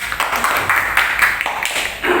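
Primary school classroom applauding a student group, with loud, close, steady rhythmic clapping that fills a couple of seconds.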